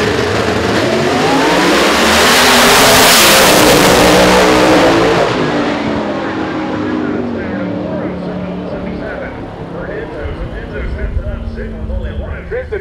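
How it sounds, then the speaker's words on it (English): A giant nitrous big-block engine in a 2002 Camaro drag racer revs loudly and roars at full volume for several seconds, then fades to a lower rumble amid crowd and track noise. "Tristan Begley with anything but a small block, the giant nitrous engine for Begley, the 2002 Camaro."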